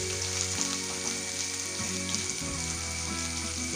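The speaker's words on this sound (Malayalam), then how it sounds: "ഇനി ഈ ചുവന്നുള്ളി നമുക്ക് നന്നായിട്ടൊന്ന് വഴറ്റിയെടുക്കണം." Red shallots sauté in a pan for pepper chicken, with a continuous close frying sizzle under a steady hum that shifts slightly as they cook; no talking.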